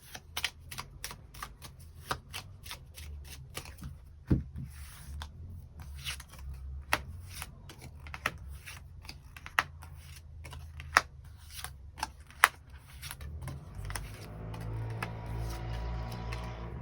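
Tarot cards are shuffled and drawn close by, making quick crisp flicks and snaps in irregular bursts with a few sharper slaps. A softer riffling wash comes in toward the end.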